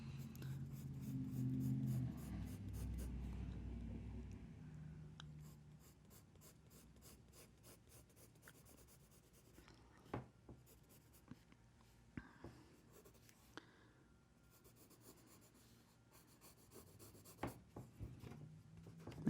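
Pencil scratching on paper during a drawing session, soft continuous strokes with occasional sharper taps, faint and close, with a louder rumbling noise at the start.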